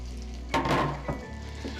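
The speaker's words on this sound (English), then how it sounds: "So we'll add the onion and the green chili into this" Chopped onion and green chili hit hot oil in a pan for daal makhani, bursting into a loud sizzle that settles to a softer fry with a brief stir.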